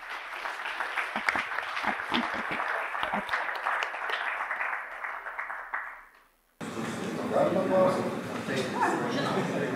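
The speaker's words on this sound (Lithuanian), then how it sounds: "Tai labai kviečiu jūs tiesiog plojimais palaikyti šią rezoliuciją" Audience applause at a conference on Lithuanian Olympic sport in a hall: a crowd claps steadily, the sound thins and drops briefly, then a fuller burst of clapping resumes loudly.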